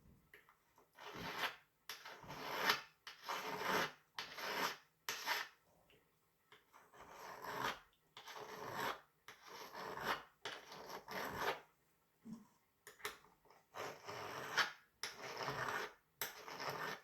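Hand file scraping a burr off a hardened steel part from an 1858 Remington New Model Army revolver: close, heavy rasping strokes in bursts with short pauses between them, no voices.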